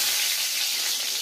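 Two or three bay leaves dropped into hot oil for tempering give a steady, hissing sizzle, close and fairly loud and constant throughout the short stretch, with no talking over it.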